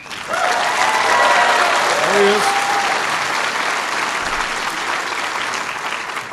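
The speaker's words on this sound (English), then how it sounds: "Give your president a big round of applause." Loud, sustained applause from a university town hall audience gathered for a presidential visit, filling the room from the start of the clip and holding steady to the end, with a short spoken remark near the beginning.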